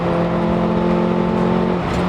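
Nissan Sentra 200SX SR20DE engine running steadily while driving, a loud continuous drone with a strong low hum held throughout, shifting slightly near the end.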